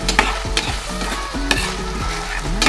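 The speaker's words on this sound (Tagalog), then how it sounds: "Check natin guys ang ating ginisa na giniling." Ground pork sautéing in oil in a pan for menudo, a loud close sizzle broken by sharp spatula scrapes and clacks against the pan, with a low hum underneath.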